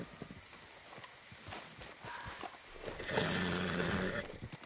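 A horse gallops in the video game Red Dead Redemption 2, its hooves making quick rhythmic clip-clops that build to a louder, busier rush of movement near the end.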